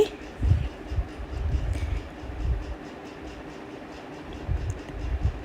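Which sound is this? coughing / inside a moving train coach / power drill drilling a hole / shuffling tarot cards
inside a moving train coach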